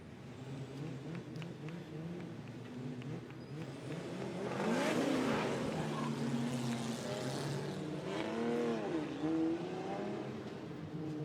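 A Toyota Supra drift car idles and rolls toward the start line at a drift event, its engine a low rumble that swells with a few moderate revs, heard at a middle distance amid outdoor ambience.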